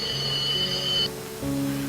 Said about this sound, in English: The operator calls by ringing a bell.